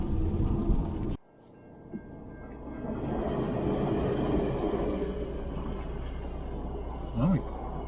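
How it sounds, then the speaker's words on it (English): A passenger train on New Zealand's South Island rumbles past close by in extreme weather, a steady, heavy roar that fills the whole clip after a sudden cut; a brief voice comes through near the end. "Oh, a passenger train."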